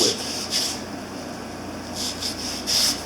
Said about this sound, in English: this is where the belt sander comes into play to get rid of all these high spots